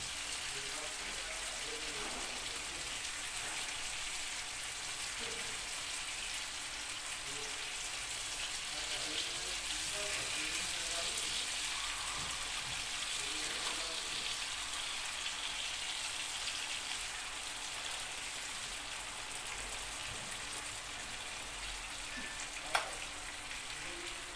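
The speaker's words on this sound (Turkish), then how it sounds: "İki taraflıyı kızartmamız lazım." Vegetables, including tomatoes, fry in a pan with a steady, crackling sizzle and small pops, close and even throughout, with soft kitchen sounds and a voice at times.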